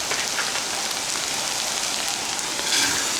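Rice hitting hot oil in a pan for dirty rice, a steady bright sizzle and crackle that holds continuously, close and alone, swelling slightly near the end.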